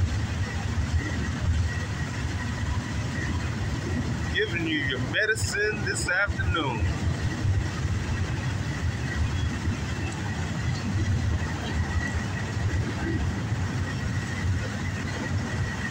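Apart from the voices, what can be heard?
intermodal double stack freight train passing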